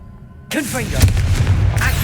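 A Confringo fire spell blasts in the Hogwarts Legacy video game, a sudden burst that hits after a quiet moment and rolls into a dense, crackling roar that lasts to the end.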